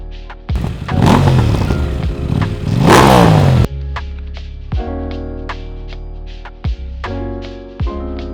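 A 2026 KTM 990 RC R motorcycle engine revs hard twice, loud and close, then settles into a steady idle punctuated by short blips of the throttle.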